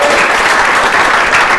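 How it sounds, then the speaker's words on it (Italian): Audience applause at an Italian talk event, a steady dense wash of many hands clapping, loud and close, with no pauses. "Salutiamo Alessandro, un applauso"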